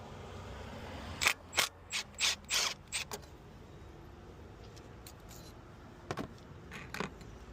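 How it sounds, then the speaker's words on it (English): Hand ratchet with a T30 bit backing out the bolts of a high pressure fuel pump on a MK5 GTI, a burst of about six sharp clicking bursts, then a pause and two more close clicks. "You're going to take off all three bolts that hold the high pressure fuel pump in."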